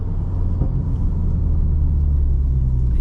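Steady low rumble of a Subaru WRX engine with manual gearbox as the car slows for a downshift before a turn, a continuous close drone without distinct revving spikes.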